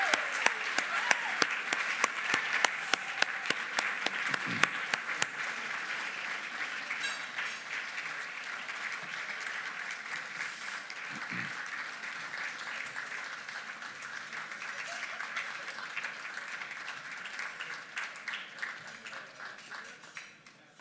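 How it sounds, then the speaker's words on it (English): Sustained audience applause at a gala honoring 2021 honorees, a dense, steady wash of many hands clapping for the full stretch, fairly loud throughout with a few sharper individual claps standing out. "please give our 2021 honorees a hearty welcome and a big round of applause"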